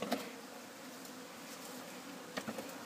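A steady, faint buzzing of bees droning continuously, with a couple of soft clicks near the end.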